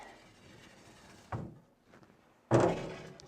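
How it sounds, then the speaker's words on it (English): A drawer is pulled out of an old wooden Rockford Furniture bureau during furniture prep, making two wooden thunks, a short knock followed by a louder, longer scraping clunk, close by with no talking. "So I'm going to get this drawer out of the way."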